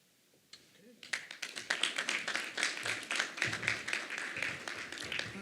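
A conference audience at a New Jersey business roundtable on the 2026 World Cup bursts into applause after a speech, scattered claps quickly swelling into steady, dense clapping that continues to the end.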